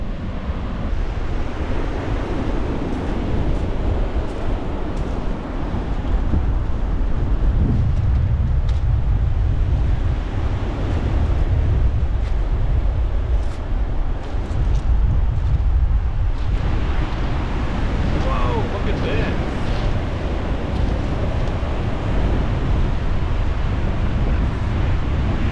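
Stormy ocean surf on the Pacific Northwest coast roars continuously, with crashing waves and buffeting wind noise on the microphone throughout, no voices.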